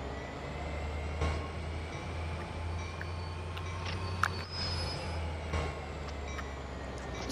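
Train rolling along steadily in the Train Sim World 2 simulator, a constant low rumble with faint wheel and rail noise and a few brief clanks, with no voices.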